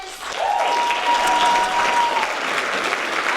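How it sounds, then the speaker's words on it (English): An audience applauds seniors at a high school theatre production of Guys & Dolls Jr, the clapping swelling quickly into a steady, dense roar of many hands that holds throughout, with a faint sustained tone running beneath it. "let's have one more round of applause for our amazing seniors."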